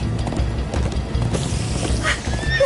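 Horses gallop during a chase in the Minecraft Story Mode video game, with steady hoofbeats over a continuous rumble and a brief higher whinny-like cry near the end.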